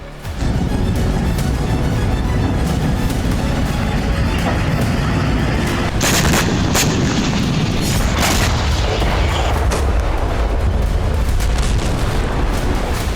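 A huge, sustained explosive roar from an Agni-5 missile strike carving through the Kirana hills, dense continuous rumbling with repeated sharper blasts layered over it, loud throughout.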